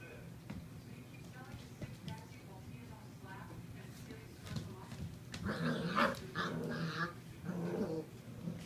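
A puppy growls and whimpers in a home while other puppies are nearby, with small yips and rough vocal bursts, loudest toward the end, mixed with background voices and movement.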